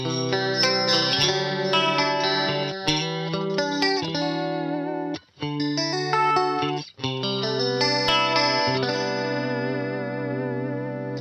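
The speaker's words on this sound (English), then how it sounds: "First is the ST mode, which is based on the MXR stereo chorus." Electric guitar played through a NUX Mini Core chorus pedal in ST mode, modeled on the MXR stereo chorus, ringing out shimmering clean chords with a warbling, swirling modulation, loud and alone, broken by two brief pauses.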